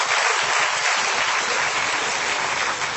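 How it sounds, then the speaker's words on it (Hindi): An audience at a Hindi comedy show applauds loudly, a dense, sustained burst of many hands clapping at once that stays strong and even throughout, with no talking over it. "एक बार ताली बजाइए जोरदार आप।"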